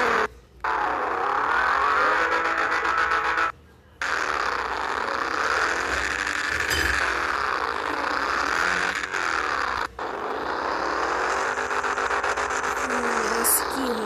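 Engine revving from a lowered car in the Brazilian mobile game Rebaixados Elite Brasil, loud and continuous with rising and falling pitch sweeps, broken by two brief gaps and one short dip, with no speech over it.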